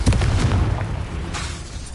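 A Confringo fire spell explodes in Hogwarts Legacy, a single loud, close boom whose rumbling tail fades over about two seconds.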